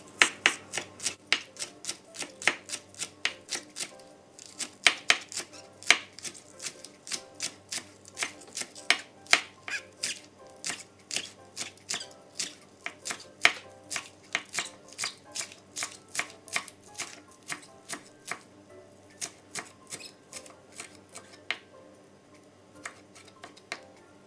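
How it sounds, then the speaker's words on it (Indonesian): A sharp Stain Cookware knife chopping on a board in a fast, steady rhythm of crisp, evenly spaced strikes, close and continuous with no voices. "Saya pakai pisau yang cantik dan tajam sekali, keluaran dari Stain Cookware"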